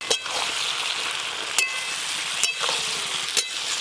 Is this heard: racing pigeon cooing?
no